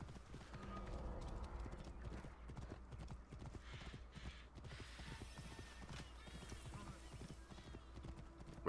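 Horse hooves clip-clop at a steady gallop in the Assassin's Creed Origins video game, a dense rhythmic patter under faint game ambience and distant voices, fairly quiet overall.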